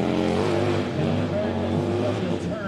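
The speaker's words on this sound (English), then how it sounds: "this motor is very deep in sound and very unique" A Harley-Davidson motorcycle engine at a Harley-Davidson hill climb, a deep, steady rumble running continuously under talking voices.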